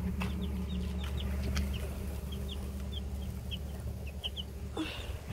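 Chickens chirp and cluck in a farm coop at feeding time, with scattered short high peeps repeating over a steady low hum, moderately close and without speech.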